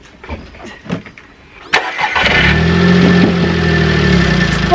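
A Volkswagen Polo's engine cranks and catches with a sharp start, then settles into a steady, loud idle with a low rumble after a quiet stretch of faint handling noises.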